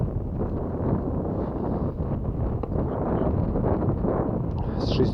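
Strong, hurricane-force wind roaring and buffeting the microphone steadily throughout while out fishing on the water, a loud continuous rush with no clear voices.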